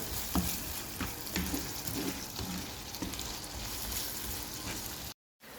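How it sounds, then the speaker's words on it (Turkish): Onions sauté in about half a tea glass of olive oil, crackling and sizzling steadily with scattered stirring scrapes and clicks close by, ending in a brief cut to silence and then a short return of sound; nobody speaks. "Soğanlarımı güzelce kavuruyorum."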